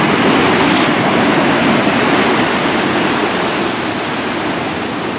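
Rushing water surges in loudly and continuously, a dense broadband roar like waves or a torrent pouring through an enclosed space, steady throughout and slowly easing off toward the end, with no voices.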